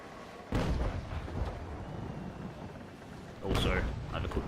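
Cannon fire from a sailing warship in a naval video game, two heavy booming shots a few seconds apart, each with a rumbling tail, under a steady background roar.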